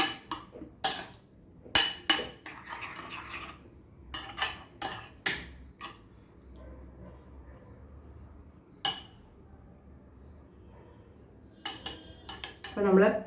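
Beetroot pachadi is mixed in a bowl with a spoon, producing bursts of sharp clinking and scraping in quick clusters, separated by quiet gaps, close and clear with no talk.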